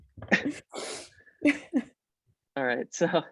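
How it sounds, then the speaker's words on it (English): A person at an online meeting lets out a sneeze with a sharp burst of breath, set between bits of speech, close and moderately loud. "one second, I'm about to sneeze."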